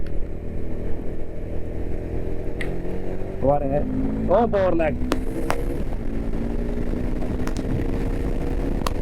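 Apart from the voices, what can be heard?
motorcycle engine accelerating while riding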